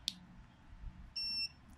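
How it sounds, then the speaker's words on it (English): Buzzer on an Arduino Uno kitchen alarm system sounds once during a button-pressed system test: a short, steady electronic tone lasting about a third of a second, clear and fairly close, after a brief click. "and the buzzer will sound"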